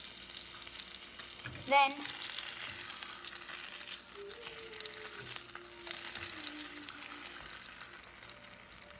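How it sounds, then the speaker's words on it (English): Cheese frying on a stovetop pan for a fried bologna sandwich, a steady low sizzle and crackle, with a brief scrape of the spatula and a quiet voice near the start. "when the cheese burns on the stove, you want your cheese to melt. See? It gets very loud."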